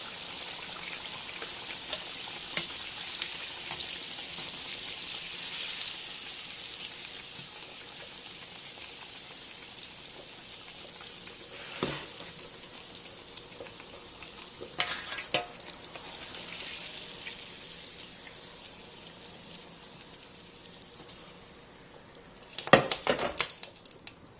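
Pork chops frying in hot oil in a home kitchen, a steady close sizzle and crackle running throughout, with a few louder bursts of spatter and handling near the end; no one talks.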